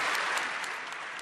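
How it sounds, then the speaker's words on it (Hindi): Members of the Canadian parliament standing and applauding Ukrainian president Zelensky in the chamber, a dense, sustained round of clapping from many hands filling the room without pause. "कनाडा की संसद में नेताओं ने खड़े होकर ज़ेलेंस्की के लिए तालियां बजा दी"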